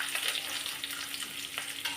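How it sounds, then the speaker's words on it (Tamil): Onions, dried chillies, cumin, fenugreek, mustard seed and fennel sautéing in hot oil in a pan, a steady close crackling sizzle with small pops, no talk. "போட்டு நல்லா வதக்கிக்கிடலாம்"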